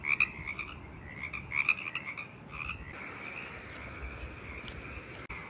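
Frogs or toads croak repeatedly outdoors at night at a campsite in Leo Carrillo State Park, a chorus of trilling calls, some close and loud, others fainter in the background.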